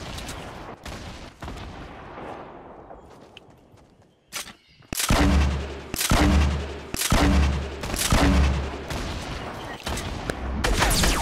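Rockets and gunfire in a battle royale video game, starting as faint distant shots, then loud booming blasts in a rapid repeated series with heavy low rumbles after a brief quiet gap.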